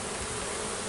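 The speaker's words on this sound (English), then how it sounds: "There's so many bees in it." A swarm of honey bees in a box makes a dense, continuous buzzing hum that stays close and even for a brief moment.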